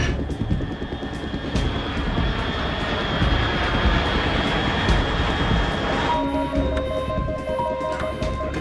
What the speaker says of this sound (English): Unidentified aircraft detected.